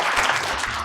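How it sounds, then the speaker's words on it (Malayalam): Studio audience applause on a Malayalam comedy show, a short, close burst of clapping that fills the whole moment. "ഈ നല്ലൊരു കൈയടി കൊടുക്കുക"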